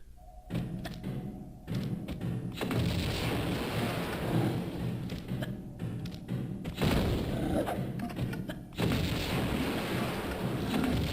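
Grenades go off in Tomb Raider II Remastered as a run of heavy booming blasts and thuds. The bursts overlap into a dense, loud rumble with brief gaps between volleys.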